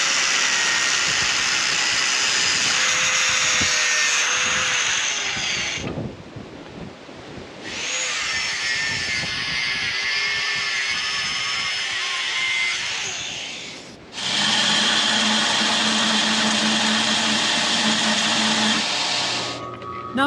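Metal tubing and flat bar are cut to size for a DIY edge sander build in a workshop, in long, loud grinding passes with brief pauses between cuts and no talking.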